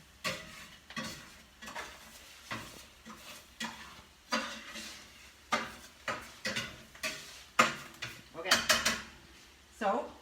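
A flour roux for chicken and dumplings cooks in a pot, stirred with repeated scraping strokes in an uneven rhythm over a faint sizzle, close and fairly quiet.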